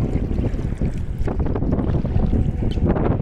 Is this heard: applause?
no